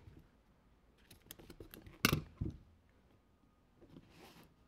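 Scissors cut silver craft material for a recycled jewelry holder with a few quick, close snips, one louder chop at the centre, and light rustling around it.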